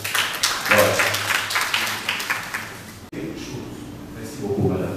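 Applause from an audience at a women's entrepreneurial leadership training session, a burst of clapping for a few seconds that fades after a short gap into room noise.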